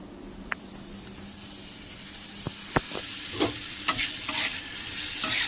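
Maggi noodles fry and get stirred in a pan, three packets' worth, with a steady close sizzle and hiss broken by sharp scraping clicks of the spoon against the pan, growing busier toward the end, with no talking.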